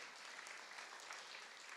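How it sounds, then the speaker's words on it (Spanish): Congregation applauding during a church service, a steady dense wash of clapping throughout, fairly distant and even, with no voices standing out. "Denle un aplauso al Señor de señores, Rey de reyes."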